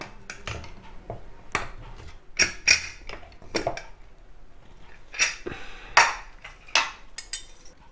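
Lid of a pressure cooker being opened after cooking rice porridge, with a series of sharp metallic clinks and clatters of pot and lid, spaced irregularly and close by, with no talking.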